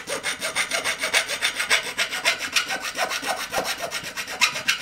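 Rhythmic rasping strokes of a tool enlarging tube socket holes in a metal amplifier chassis, steady back-and-forth scraping repeated many times, close and alone.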